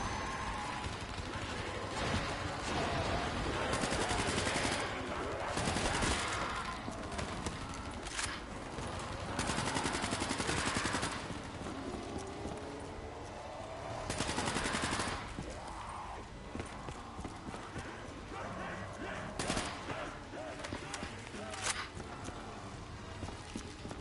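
Rapid bursts of automatic gunfire from the video game Black Ops 3, a dense clatter of repeated shots in uneven clusters with brief pauses, loud and continuous across the whole stretch.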